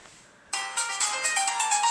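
After a brief quiet start, a bright electronic ringtone begins abruptly and plays a repeating melodic pattern, fairly loud and close.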